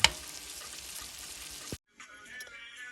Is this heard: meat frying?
yes